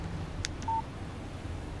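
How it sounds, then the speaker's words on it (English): A text message alert on a phone in the video game Alan Wake Remastered: a short electronic chirp followed by a brief steady beep tone, clear and close over quiet background hum. "Text message from Barry."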